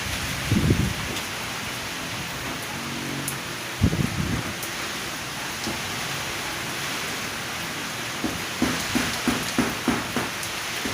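Heavy rain from a tropical storm in the Bicol region of the Philippines, a steady broadband wash of falling water with a few scattered thumps and patters, continuous and alone.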